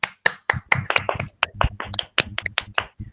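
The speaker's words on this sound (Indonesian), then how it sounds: "Tepuk tangan untuk kita semua." Schoolchildren in a classroom clap their hands together at a teacher's prompt, a short run of sharp, uneven claps close by with brief gaps between bursts.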